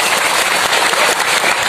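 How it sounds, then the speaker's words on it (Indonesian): Loud, dense audience applause at a religious gathering, a close, continuous wash of many hands clapping with no break through the short stretch. "Tepuk tangan buat Mas Angga."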